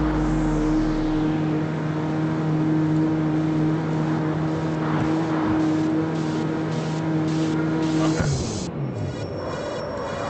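A car engine in the CarX Street racing game is held high at the top of fifth gear, a steady loud droning hum, then it abruptly shifts pitch near the end as the revs change.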